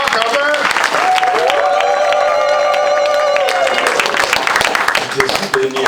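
A church congregation claps and cheers loudly and steadily for a guest evangelist, with a sustained vocal cry rising above the applause midway.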